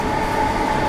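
Steady rumble of a passenger train ride departing Cambridge Station, a continuous close interior drone with a faint tonal hum and no clear clatter.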